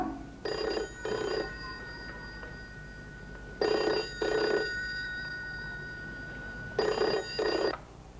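An old-style telephone bell rings in three double bursts, each pair of rings separated by a few seconds of quiet room tone.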